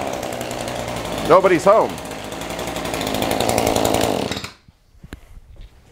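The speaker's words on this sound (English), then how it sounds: "So the motor runs fine, but I don't see the edger blade turning." A Shindaiwa LE262 edger with a blade that is not spinning runs loud and close, its two-stroke engine buzzing and rising under throttle before cutting out near the end. Someone speaks briefly over it.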